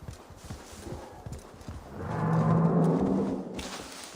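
Horse galloping in Assassin's Creed Valhalla, with a rhythm of hoofbeats giving way to a louder rushing swell of movement and bridle sounds, then easing off.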